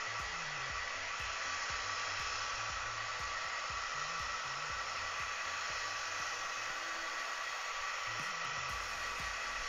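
Hair dryer blowing a steady, loud stream of broadband air noise while gently warming a Necron miniature, with faint rhythmic low thumps of music running underneath throughout.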